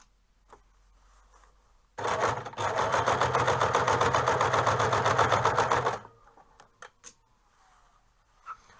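Sewing machine stitching a seam on a rapier hood, a steady rapid mechanical whir of needle strokes running about four seconds, close and clear, with quiet fabric handling before and after.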